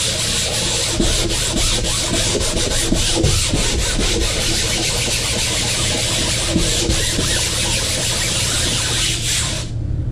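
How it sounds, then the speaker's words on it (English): The fiberglass deck of a wingfoil board is hand sanded with steady back-and-forth rasping strokes, close and fairly loud, in a fast, even rhythm that stops abruptly near the end. "we're just focusing on just getting a pretty broad sanding job here and not really putting too much pressure in one little spot because that will sand through the glass"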